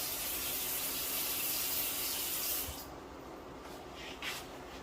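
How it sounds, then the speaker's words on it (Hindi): Water pours steadily into a cooking pot for aloo gosht, a broad rushing hiss that stops abruptly partway through, leaving a quieter background with faint clinks. "मैं इसके अंदर 3 कप पानी डालूंगा।"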